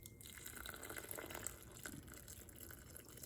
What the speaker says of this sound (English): now we're gonna pour some water in there